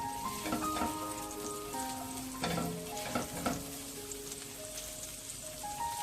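Chopped ginger and garlic fry in leftover chicken oil in a pan for Kung Pao chicken, with a soft crackling sizzle and scattered pops. A few louder spatters come as the pieces are stirred.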